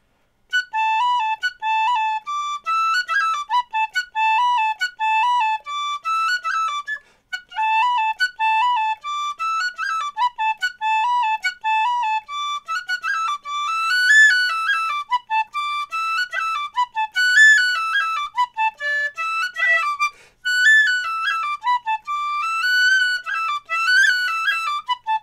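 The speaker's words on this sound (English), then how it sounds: "you can also play this tune in D nicely on a whistle" An Irish tin whistle plays Peg Ryan's Polka in D, a bright, lively tune of quick, clear notes and ornamented runs heard alone and up close, with a couple of brief breath pauses.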